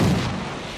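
A trench fighter plane's explosive darts striking the ground in Battlefield 1, heard as a single loud, dull boom at the start that decays into a rumbling tail.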